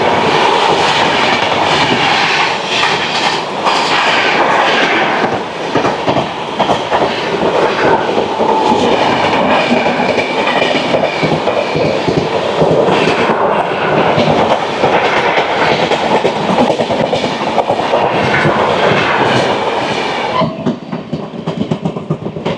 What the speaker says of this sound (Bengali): আমাদের ট্রেন এখন ঢুকছে দীনদয়াল উপাধ্যায় স্টেশনে